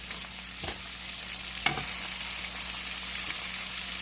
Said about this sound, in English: And of course we're frying it in some olive oil.